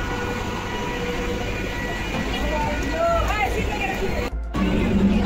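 A train pulling out at a busy railway station during a morning office commute, its steady rumble and rolling clatter continuing throughout with station babble and voices mixed in, and a brief dropout near the end.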